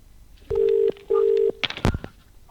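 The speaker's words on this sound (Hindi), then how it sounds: "अभी देखिए जरा कालेन खलको साहब को ये फोन लगाया जा रहा है।" A phone keypad sounds two long, identical dialing tones in quick succession while a call is placed to a district agriculture officer in Lohardaga, followed by a few short clicks and a sharp electronic blip, close and clear, with no voices.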